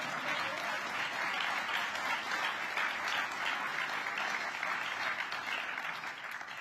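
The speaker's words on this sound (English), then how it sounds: "There's a sign in back that says applause right now." Steady, dense applause from a large audience at a mayor's 2023 State of the City address, sustained evenly at a moderate level throughout without any voices.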